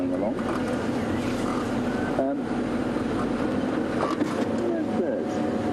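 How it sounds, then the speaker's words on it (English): A small airplane turns around on a safari airstrip, its engine giving a loud, steady drone that fills the whole stretch without letup. "the aeroplane is turning around, making a great noise, and it's going to come back this way"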